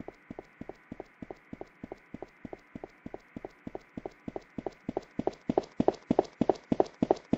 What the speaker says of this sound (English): the closer we get to the camera, the more you can hear the footsteps